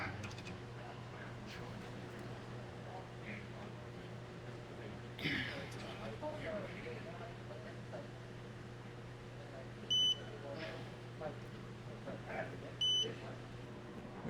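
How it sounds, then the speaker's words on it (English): A digital torque wrench with lights on both sides and front, used on a TRD Pro rear sway bar install, gives two short, clear electronic beeps a few seconds apart over a steady background hum. "The cool thing about this torque wrench, it's got lights on both sides and on the front, and it beeps."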